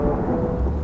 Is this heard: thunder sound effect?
yes